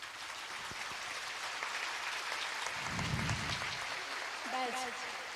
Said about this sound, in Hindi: वे खड़े होकर तालियों की गड़गड़ाहट से उनका स्वागत